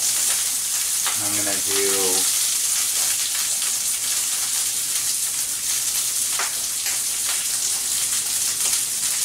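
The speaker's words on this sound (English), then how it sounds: "I've already got some oil going in a skillet. We're just going to reheat this rice." Leftover Spanish rice fries in hot oil in a skillet with a steady close sizzle. A voice speaks briefly over it near the start.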